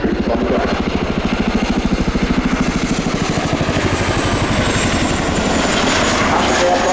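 A Chinook twin-rotor helicopter flying at an air show gives a loud, steady rapid blade thump with turbine whine, continuous throughout and close by.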